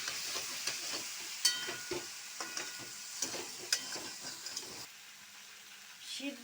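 Taro stem curry fries in a pan and is stirred repeatedly, with a soft, low sizzle broken by rhythmic scraping and clattering strokes that fade near the end.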